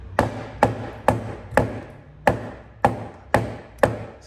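A rubber mallet taps the door trim on a Honda Integra DC2 Type R (GSR), eight sharp, evenly spaced knocks, close and alone.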